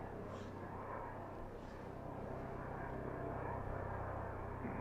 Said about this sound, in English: That's Penn State Lifeline aeromedical helicopter from Penn State Hershey Medical Center